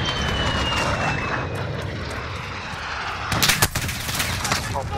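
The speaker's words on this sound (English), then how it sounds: "Why have they got a VTOL?" Aircraft engine noise drones overhead during a first-person shooter match with a VTOL air support streak, under dense gunfire, with a burst of loud shots and impacts near the end.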